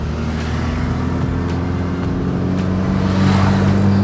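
A Mitsubishi Eterna engine with an aftermarket performance exhaust idles with a deep, steady exhaust rumble, its tone rising slightly toward the end as it revs, close and loud.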